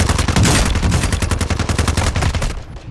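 Rapid automatic gunfire in a Warzone ranked match, a loud burst of closely spaced shots lasting over two seconds before cutting off.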